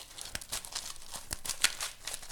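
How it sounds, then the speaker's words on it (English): Sleeved playing cards being shuffled by hand during a tabletop card game, giving a run of soft crinkly riffles and snaps with a few sharper bursts, close and fairly quiet. "shuffle the cards"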